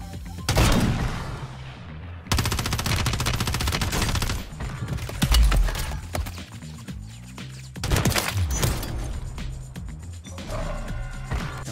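Sniper rifle fire in the video game Warzone 3, with heavy loud shots and booming impacts over dense game music and battle noise, several blasts spaced across the action.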